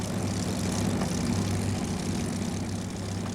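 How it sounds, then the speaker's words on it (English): A P-51 propeller fighter plane's engine drones steadily and loudly, a close, continuous heavy roar with no voices over it. "this new airplane appeared on the scene, the P-51"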